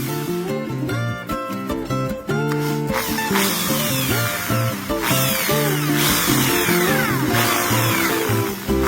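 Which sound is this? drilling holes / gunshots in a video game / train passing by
drilling holes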